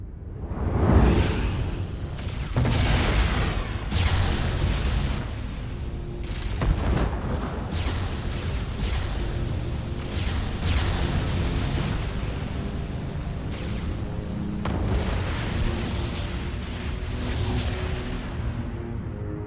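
A Protoss warp ray in StarCraft II fires at enemy barracks with dense, continuous game combat noise. Booming impacts, whooshes and bursts of explosion overlap at steady loudness throughout.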